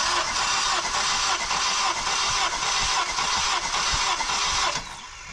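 Rebuilt turbocharged 8th-generation Honda Civic engine cranking over on the starter during a compression test, a steady rhythmic whirring churn held for several seconds before cutting off.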